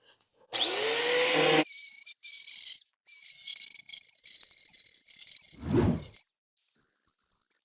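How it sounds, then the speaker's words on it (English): Abrasive grinding wheel on an angle grinder scraping slag off steel during frame work on a 1948 Dodge, loud harsh bursts of high-pitched grinding broken by short pauses, with a heavy thump mid-way. "we're going to use it to remove some slag off of this steel"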